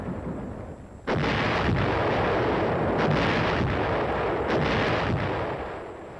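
U.S. heavy artillery firing in the field as troops advance: a sudden loud blast sets off a long, sustained roar of booming rumble that holds steady for several seconds before easing slightly, with no voices.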